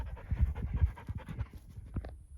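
A dog pants at a campsite after a long walk on a red deer archery hunt, rapid close breathy huffs in an uneven rhythm that trail off near the end.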